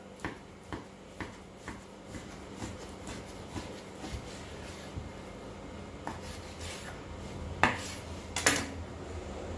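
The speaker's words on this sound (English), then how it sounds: "We'll get my steak knife, we'll cut a beautiful slice here." A steak knife cuts a slice from a prime Scotch chuck beef joint, giving a series of faint, soft scraping strokes and light taps on a board, with two sharper clinks near the end and no talking.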